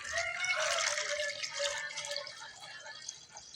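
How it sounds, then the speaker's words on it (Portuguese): Water pours in a steady, gentle splashing stream while a marinade is being prepared, fairly soft and unbroken, easing slightly toward the end. "Agora eu botar água."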